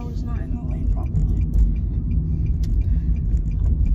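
A car passes on the road with a steady low rumble that swells and fades over a few seconds, close by and fairly loud, while people talk over it.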